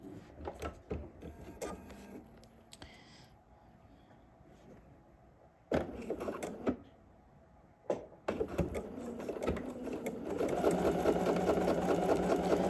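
Sewing machine stitching a sleeve gusset, running in several bursts separated by pauses, including a short back-stitch, with some handling noises in between.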